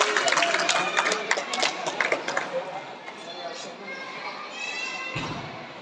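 Children clap their hands at a school birthday celebration for a teacher at Sahara English Medium High School, Shahapur, with a quick run of sharp claps at the start that thins out against a background of voices.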